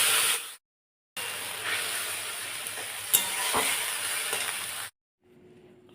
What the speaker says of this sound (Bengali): এবার দিয়ে দিলাম পেস্ট করে রাখা মশলাটা।